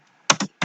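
A few quick bursts of keystrokes on a computer keyboard, close and clear, in two short clusters separated by a brief pause, with no talking.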